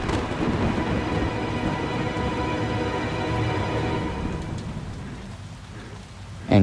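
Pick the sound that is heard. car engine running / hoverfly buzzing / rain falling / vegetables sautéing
rain falling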